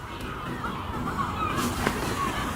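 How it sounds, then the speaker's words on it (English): Seagulls call at night near a campsite, their honking cries faint and distant over a steady background hiss. "And all the seagulls are going."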